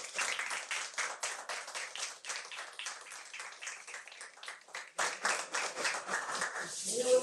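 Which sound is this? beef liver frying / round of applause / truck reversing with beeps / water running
round of applause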